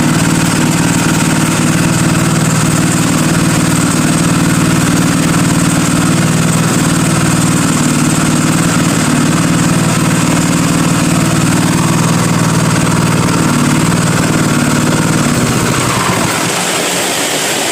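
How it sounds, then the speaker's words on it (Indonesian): A small water pump engine idles loudly and steadily with a constant droning hum and vibration, then cuts off near the end. "Ini lebih tenang pada mesin pompa airnya"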